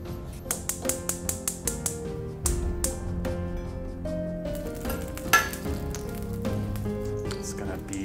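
Spiced bay scallops searing in a hot pan, a steady sizzle broken by sharp crackles and pops, with light clinks and scraping at moderate loudness.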